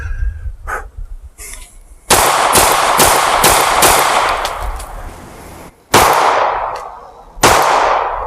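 Pistol shots fired from the half hip position at 3 yards ring out as loud, close bursts of rapid gunfire, several quick strings separated by brief pauses, with sharp reports and echoing tails.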